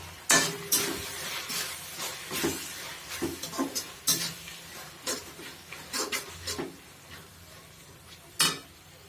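Spices stirred into a sizzling pan of fish curry with capsicum, with repeated close scrapes and clinks of a spoon against the pan over a low frying hiss.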